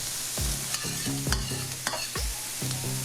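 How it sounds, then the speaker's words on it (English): Mixed chopped and diced onions sweating in about two tablespoons of olive oil in a pan, with a soft, steady sizzle and repeated close scrapes of a utensil stirring them. "we're just sweating these onions out"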